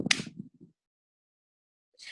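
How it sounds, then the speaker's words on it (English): A single sharp hand clap near the start, followed by silence and a faint sound at the very end. "I'm just going to do the clap so then I know where the recording starts."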